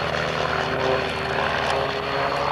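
Aerobatic propeller aircraft flying synchronized stall turns at an RAF Coningsby airshow in 1992, a loud sustained engine and propeller drone with a buzzing harmonic hum, continuous throughout.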